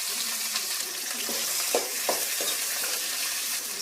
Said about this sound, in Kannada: ಈರುಳ್ಳಿ ಸ್ವಲ್ಪ ಫ್ರೈ ಆಗ್ತಿದೆ